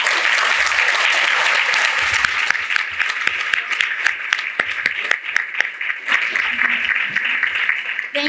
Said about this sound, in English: please a round of applause for all the panelists